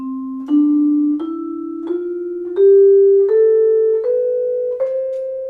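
Eight vibraphone notes rise stepwise, each flowing smoothly into the next as the previous one is damped, with no gaps.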